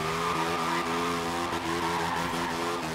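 Tires squeal steadily as a car drifts sideways in Forza Horizon 3, a continuous loud screech layered over a droning engine for the full stretch without pause.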